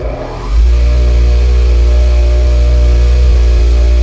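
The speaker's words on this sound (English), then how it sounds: "And just like a grinder, you turn it on" A motorized buffing wheel with a cardboard disc charged with jeweler's rouge switches on and spins up to a steady, loud, droning whir with a tonal hum, running continuously with no talk.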